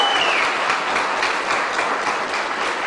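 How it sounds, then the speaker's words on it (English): Hospital staff and guests at a one-year ER reopening anniversary ceremony give a dense, steady round of applause, loud and continuous throughout. "I want to hear a big round of applause for that."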